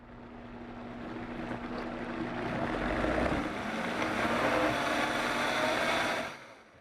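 A Vitamix blender runs steadily on shallots as oil is poured in, a loud, even whirring roar that holds for about six seconds and then cuts off abruptly.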